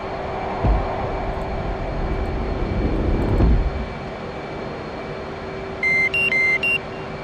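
F/A-18C jet engine spooling up for takeoff in the flight simulator DCS World, a loud roar that swells and peaks with a rumbling thump, then settles into a steady whine while a few electronic cockpit beeps sound near the end.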